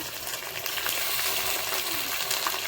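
Garlic paste goes into onions frying in a pan, with a steady, close sizzle and faint crackles throughout and no voices.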